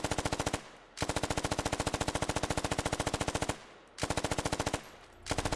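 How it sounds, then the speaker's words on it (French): Minimi light machine gun in the tactical shooter Squad fires long rapid automatic bursts, sharp and evenly paced, broken by brief pauses and a short final burst. "on a la Minimi qui sera la mitrailleuse de la faction française"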